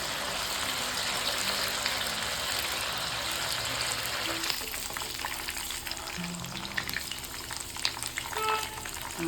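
Chicken pieces deep-frying in hot oil for homemade spicy chicken noodles, a steady dense sizzle and bubbling that runs the whole time, close and fairly loud, with a few faint clinks and no talking.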